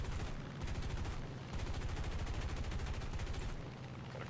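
Aircraft guns fire in War Thunder in rapid bursts of dense machine-gun rattle, loud and continuous with brief gaps between bursts, set against steady engine drone.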